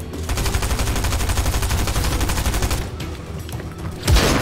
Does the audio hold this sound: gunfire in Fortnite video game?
yes